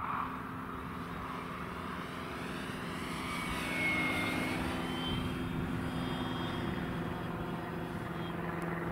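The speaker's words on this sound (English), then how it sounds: "Notice variable throttle, it's not all flat out" An E-flite Focke-Wulf Fw 190A electric RC scale warbird flies overhead, its motor and propeller whining steadily and rising and falling in pitch as the throttle varies, moderately distant and fairly faint.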